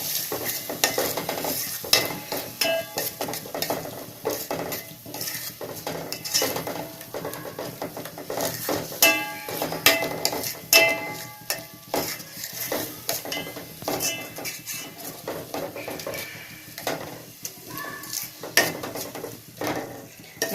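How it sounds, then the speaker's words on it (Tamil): Biryani masala being sautéed and stirred in a pan for Ambur chicken biryani, with a continuous sizzle under repeated scraping and clinking of a spoon against the metal, close and busy throughout. "நல்லா வதக்குங்க."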